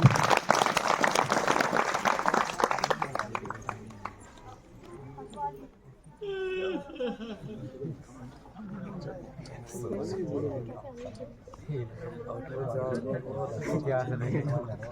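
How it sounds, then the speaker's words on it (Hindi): Loud, dense applause from a crowd at a farewell ceremony fills the first few seconds, then fades as a voice takes over with murmuring in the background. "एक बार जोरदार तालियां"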